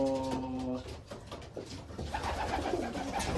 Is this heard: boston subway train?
no